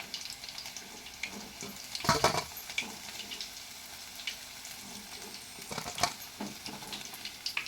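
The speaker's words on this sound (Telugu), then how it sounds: "ఒక వాయి అయితే చికెన్ ముక్కలు ఫ్రై అయింది" Chicken pieces fry in a pan for chicken fry rice with a soft, continuous sizzle, broken by a few louder clatters and scrapes from stirring. No one speaks.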